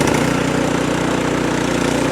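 A Briggs and Stratton snow blower engine runs steadily close by, a loud even chugging with a fast regular pulse and no pauses.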